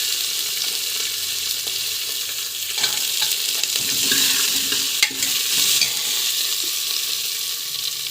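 Shredded cabbage stirs and fries in a pan, a close, steady sizzle with scraping stir strokes rising in the middle of the clip, no voices.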